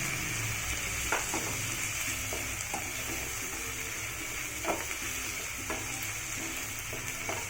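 Onions and tomatoes frying for beetroot chutney, a steady close sizzle throughout with occasional stirring scrapes and clinks, no talk.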